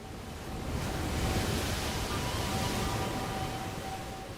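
Waves crash against rocks on a coastline, a broad, steady roar of surf that swells and then holds, heard alone without speech.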